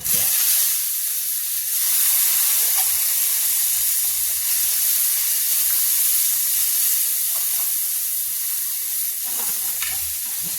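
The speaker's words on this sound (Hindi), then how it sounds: "जीरा और सौंफ, इसको हल्का सा भूनते हैं।" Cumin and fennel seeds roast in a hot pan, giving a steady, close sizzle and hiss that runs unbroken for the whole stretch with no voices.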